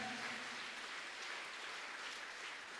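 A church congregation applauding during a Sunday bilingual service, a dense steady wash of clapping heard from some distance at low level.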